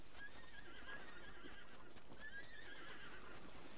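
In The Legend of Zelda: Breath of the Wild, a horse gives two rising whinnies while its hooves clip-clop steadily underneath, game sound heard clearly with no talking.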